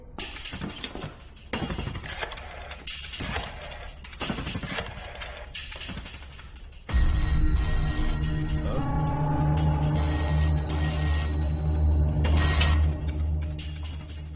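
A telephone ring tone sounds repeatedly over a busy, noisy background, growing louder and more tonal midway through.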